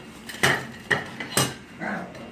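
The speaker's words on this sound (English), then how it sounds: "I'm going to dump out the fries. They sure sound nice and crispy." Crispy air-fried French fries are dumped out of a GoWise air fryer basket. A few close, sharp clattering knocks of the metal basket come in quick succession, followed by a softer rustle.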